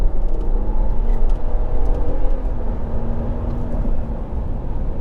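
A 2025 Ram 1500 Warlock pickup truck accelerates hard up an on-ramp, a steady loud engine and road roar with heavy low rumble, no talk.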